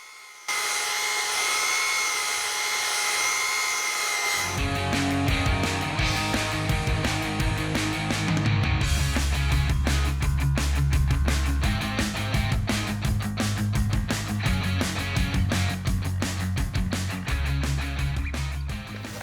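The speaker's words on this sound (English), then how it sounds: "So I really like this belt sander and not having a cord." A Milwaukee cordless belt sander fitted with 80-grit sandpaper works on outdoor wood furniture. A motor whine comes first, then a loud, continuous abrasive buzz takes over as the belt bites into the wood.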